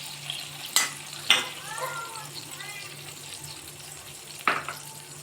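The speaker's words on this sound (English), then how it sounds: "So garlic is getting fried." Crushed garlic frying in oil gives a soft, low sizzle, broken by a few sharp clacks from a utensil against the pan. A faint electrical hum and some distant voice-like chirps sit underneath.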